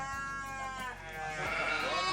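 Sheep bleating in a pen at a livestock farm, several wavering bleats rising and overlapping, fairly close and moderately loud.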